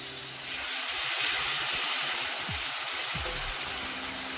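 Ginger garlic paste with ground spices fries in a pot, starting with a sudden broad hiss that becomes a steady, loud sizzle, with occasional low scrapes of stirring underneath.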